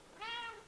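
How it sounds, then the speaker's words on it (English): A big cat in a knife-forging shop gives one short, faint meow nearby. "my big cat's up here wanting to get in on the action"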